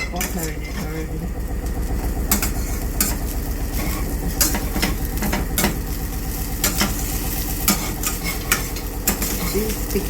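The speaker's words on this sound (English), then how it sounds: "It's sticking, you got to keep stirring it." Egg fried rice with coconut is stirred in a hot pan, a dense sizzle with repeated scraping and clattering strokes, loud and close, over a low running hum.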